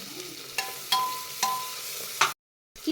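Ginger-garlic paste, turmeric and chopped tomato frying together for a veg biryani, with a soft sizzle punctuated by several sharp spatula clinks, then a brief dropout of sound.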